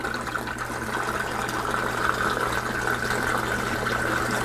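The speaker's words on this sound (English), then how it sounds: "So if you can hear the gurgling sound, that's what it sounds like without the standpipe." Water gurgles steadily down the drain of a 245-gallon cichlid aquarium with the standpipe pulled out, a continuous churning rush over a low pump hum.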